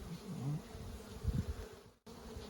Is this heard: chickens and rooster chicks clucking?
no